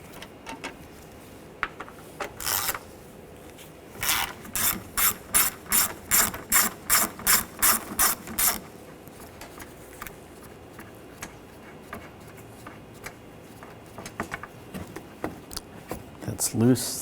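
A ratchet with an 8mm socket works screws loose on a Ford Escape, giving a short burst of clicks followed by a long, steady run of about a dozen rhythmic clicking strokes up close, with scattered clicks afterward.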